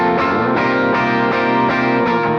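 Two distorted electric guitars played together, rhythm bar chords under lead inversions higher up the neck, a loud continuous band-like strum with chord changes about every half second.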